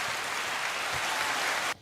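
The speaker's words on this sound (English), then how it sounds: "Can you give that, by the way, a round of applause to Yusuf" Audience applause fills the room, a dense steady wash of clapping that holds loud for nearly two seconds and then cuts off abruptly.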